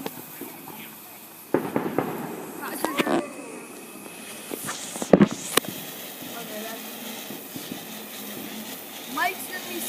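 Fourth of July fireworks display: scattered bursts and pops at a distance, a few sharper bangs standing out, heard under people talking nearby.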